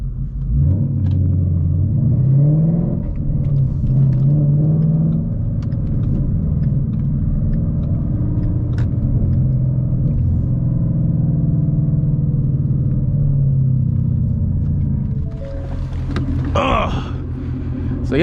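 A Ford Mustang GT engine rumbles steadily at low pitch while driving, with road noise throughout and a brief shift in tone near the end.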